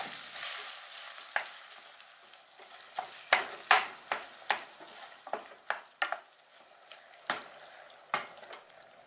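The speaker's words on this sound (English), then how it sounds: "I'll continually break up the mince, stirring it in and flipping it over so I can brown on all sides" Beef mince browning in a pan for chili con carne while being broken up and stirred: a steady sizzle under a series of sharp scraping and clattering stirs, close and fairly loud, with no talking.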